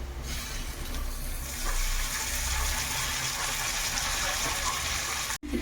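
Tap water gushes steadily while spinach leaves are washed, a constant close splashing flow with one brief break near the end.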